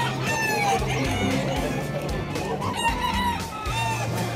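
Roosters crow repeatedly among clucking chickens at Bocue Pet Market, several birds calling close and loud over a busy background with faint talk.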